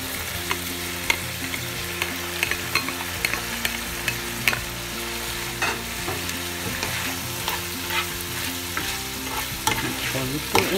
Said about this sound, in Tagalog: Lutuin lang po natin yung bacon.